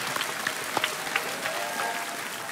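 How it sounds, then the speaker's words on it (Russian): An audience at a staged fighting show bursts into brief applause, a busy patter of clapping with a few scattered shouts and whistles. "Давайте их поприветствуем аплодисментами."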